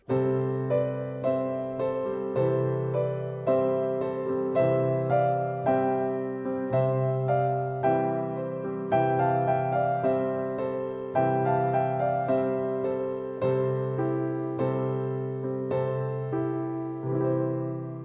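A slow piano melody harmonized in parallel thirds, a third added below each melody note, two notes struck together on each beat in a steady, even rhythm, clear and unaccompanied.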